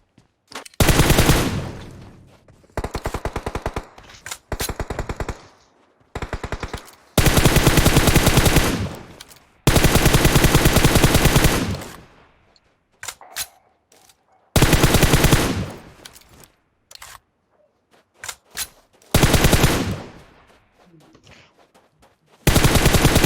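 Automatic gunfire in PUBG Mobile comes as loud bursts of rapid shots, several long sustained volleys with short silences between them, and no talk over it.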